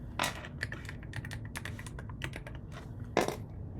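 A password being typed on a computer keyboard: quick, close key taps in an uneven burst, with one sharper, louder keystroke near the end and no voices.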